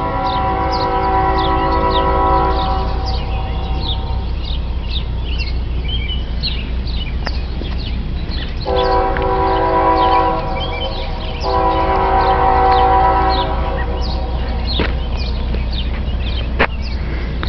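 BNSF ES44DC locomotive horn sounding in loud, chord-like blasts: a long blast at the start, then two more sustained blasts in the middle. Rumbling train noise runs throughout, with birds chirping faintly in the background.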